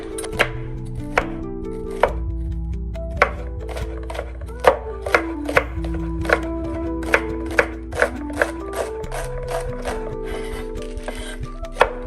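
A knife finely chops saag greens on a board, rapid sharp taps in an uneven rhythm, close and clear with no talking.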